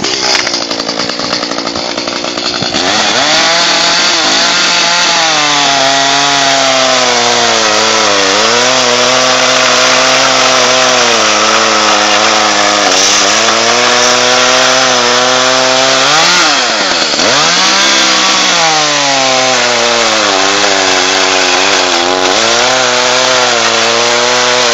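A chainsaw cuts winter firewood, its loud engine whining steadily and rising and dipping in pitch as the chain bites into the wood, with no talk over it.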